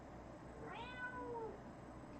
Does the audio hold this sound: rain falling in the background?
no